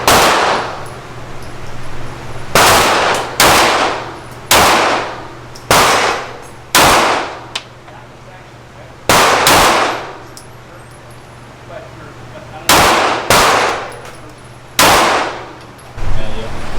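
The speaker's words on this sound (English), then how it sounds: "I'm ready to shoot the Glock" Glock pistol shots at a shooting range ring out in sharp, loud single reports, about a dozen spaced irregularly with pauses between, over a low steady hum.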